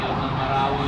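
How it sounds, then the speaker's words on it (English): An emergency vehicle's siren wails in a busy city, a brief, loud, sustained tone over the street noise. "you know it's a busy city when you hear sirens going off"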